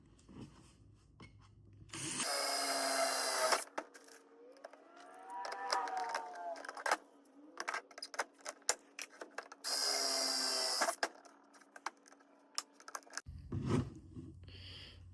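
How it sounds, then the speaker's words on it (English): Two loud bursts of drilling into a plastic case, each lasting a second or more, separated by clicks, taps and a brief whine, with another drill burst starting near the end. "we're just going to go ahead and drill these holes"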